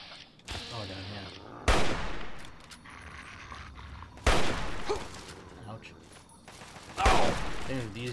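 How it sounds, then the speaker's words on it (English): Enemy gunfire in Fallout 3 at Fort Bannister: loud, sharp bursts of shots crack out in three separate volleys, each trailing into a rattling tail, with a voice speaking between the bursts. "I know know I'm getting shot at."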